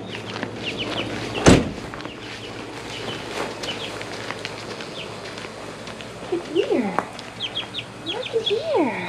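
Baby chicks being moved to a new home: soft peeping and clucking fowl throughout, with a sharp knock near the start and footsteps and rustling around them.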